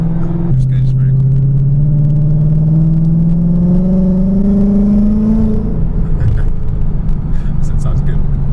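A supercharged widebody Ford Mustang revs loud and close, its engine note climbing steadily for about five seconds before dropping back to a rough idle rumble.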